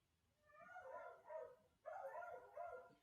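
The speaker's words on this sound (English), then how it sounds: "Those dogs are really going at it back there" Dogs barking in the background, a cluster of repeated barks in two bursts, fairly distant and moderately loud, with no speech over them.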